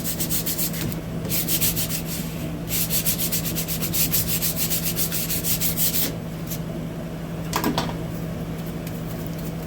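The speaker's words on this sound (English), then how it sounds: "keep hitting it with the block sander until all the little imperfections start going away" A block sander rubs back and forth across a wooden gun stock in steady, rasping strokes, close and continuous, with a brief louder scrape near the end.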